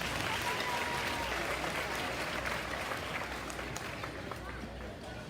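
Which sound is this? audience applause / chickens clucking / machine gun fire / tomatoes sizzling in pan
audience applause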